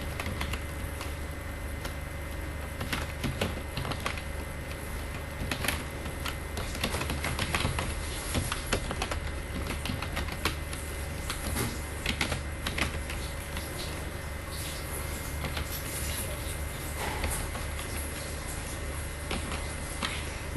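Names are typed into a spreadsheet on a computer keyboard as a long run of faint, quick key clicks, an uneven tapping rhythm over low steady background hum.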